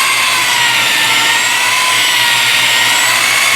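A handheld power polisher buzzes continuously and loudly while restoring a car headlight lens, a steady close vibrating drone with no pauses or speech.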